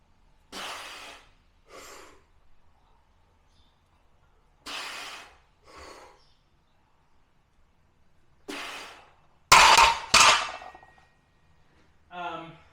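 Forceful breathing during an incline bench press rep: several sharp, separate breaths and exhales spaced across the clip with quiet gaps between, plus a loud metallic clang near the end.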